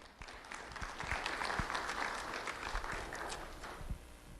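Steady audience applause fills a Lee County Sheriff's Office recognition ceremony as a second grader is called up, a dense, even wash of many hands clapping with no talk over it.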